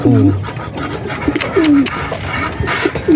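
Pigeons in a loft coo close by, several short rolling coos repeating over steady low background noise.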